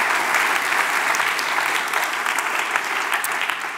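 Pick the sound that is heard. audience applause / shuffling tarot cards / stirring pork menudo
audience applause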